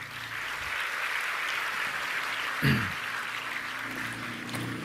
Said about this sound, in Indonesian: Tepuk tangan untuk mereka ya.